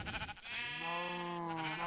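A sheep bleats in the video game Minecraft SevTech Ages on a farm, one long, wavering, nasal call sounding clear and fairly close, with no talking.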